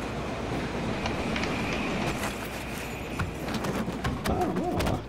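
A train rolls past in the video game Battlefield 3, a steady rumbling rush with metallic clatter and a faint high whine building toward the end, loud and close throughout.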